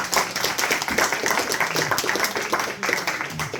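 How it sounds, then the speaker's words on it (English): Audience applause at a Bhagavad Gita study gathering, a dense patter of hand claps filling the room steadily throughout, with faint voices mixed in under the clapping. "So please give a round of applause to Amit Prabhu."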